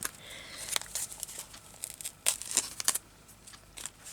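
Scissors cut through a paper envelope in a few short, crisp snips and tearing rustles, fairly quiet and close, with soft paper handling between cuts.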